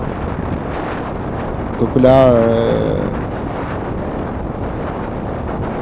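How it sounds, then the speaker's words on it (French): Wind buffets a microphone during a cross duathlon, a constant loud low rumble and roar throughout, with someone briefly speaking over it. "Là, on entend bien le vent."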